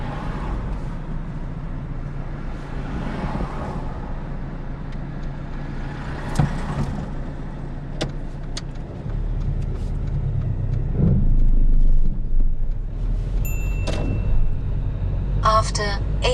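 Learner car pulling away on a London driving test, a low engine rumble with road traffic around it that swells as the car gets moving, and someone speaks inside the cabin.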